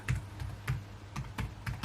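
Fingers tap out an email address on a computer keyboard in a quick, uneven run of soft clicks, close and quiet with no talking.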